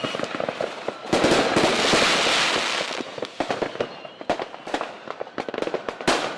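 Fireworks and firecrackers exploding in a dense volley, with a loud sustained crackling roar early on breaking into rapid sharp bangs and pops that continue irregularly to the end.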